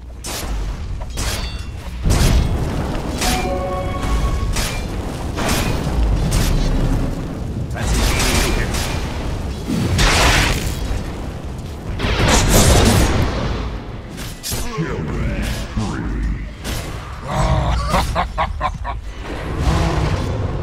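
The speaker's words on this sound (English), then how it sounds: "Dire's bottom tower is under attack." Dire's bottom tower under attack in a Dota 2 match: loud, dense battle noise of repeated booms, bursts and metallic impacts over mechanical clatter, with bright ringing spell effects rising and falling throughout.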